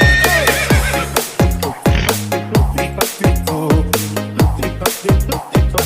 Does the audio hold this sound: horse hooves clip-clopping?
yes